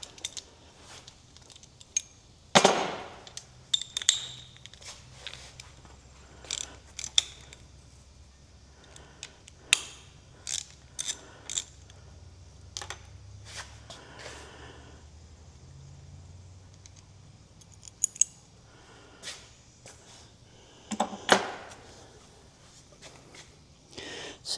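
Metal clinks, taps and rattles of tools and fasteners as the front bumper comes off a Mustang in a garage, scattered irregular clicks and clanks at close range with a low background hum and no talk.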